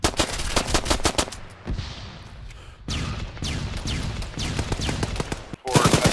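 Rapid grenade-launcher bursts and explosions from a Mark 19 in the military shooter Arma 3, loud and close: two clusters of sharp repeated shots, then a longer stretch of crackling blasts with a boom, and a final burst.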